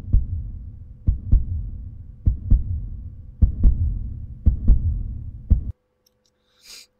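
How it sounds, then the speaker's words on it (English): Steady double-thump heartbeats sound alone, low and muffled over a faint hum, then stop abruptly near the end. "Heartbeat sound effect"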